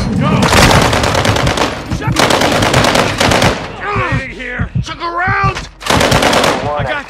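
Loud, dense bursts of automatic gunfire in the video game Call of Duty Warzone 2.0 on PS4, rapid rattling volleys with short pauses between them and shouted combat voice lines breaking in midway.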